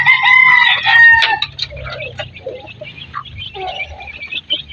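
Hens cluck and squawk in a busy barnyard, with a loud crow-like call at the start followed by scattered, lower clucking.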